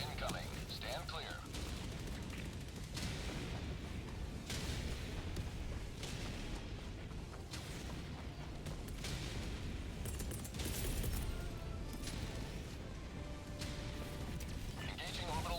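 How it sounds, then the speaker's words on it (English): Orbital barrage in Helldivers 2 pounds the area with repeated heavy explosions, dense overlapping booms and blasts rolling continuously under loud game voice callouts and players talking. "Orbital barrage incoming."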